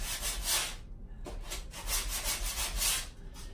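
MDF trim molding in a farmhouse-style powder room is rubbed smooth by hand, a steady, close scratchy back-and-forth with one brief pause, and no voices.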